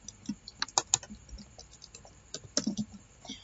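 Quiet, close keystrokes on a computer keyboard during HTML coding, irregular clusters of soft clicks with brief pauses between bursts and no speech.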